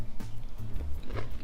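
Crunchy bites into Gobi Manchurian, fried cauliflower in an Indo-Chinese sauce, each one a close, crisp crunch followed by chewing, repeated several times over a brief moment.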